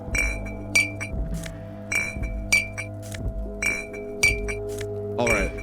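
Empty Commodore Red and Pilsner glass bottles clink together as they are gathered up in the video game Disco Elysium: crisp ringing chimes over a low hum, repeating in three even cycles with a brief extra rattle at the end.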